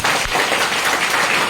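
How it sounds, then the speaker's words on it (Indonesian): Students at a junior high school student-council oration event clap together, a loud, close, steady burst of many hands with no speaking over it. "tepuk tangan dong."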